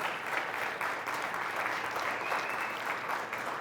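A quiz-show audience applauds Auburn's team at the end of a round, steady dense clapping that fills the room from start to finish with no voices over it.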